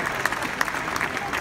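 Audience clapping for Kimmy as she comes on stage at Jason Mraz's birthday celebration during Justin Willman's magic show, a brief, steady patter of applause at moderate level with no talk.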